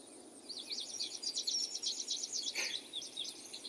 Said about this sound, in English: There is the sound of birds.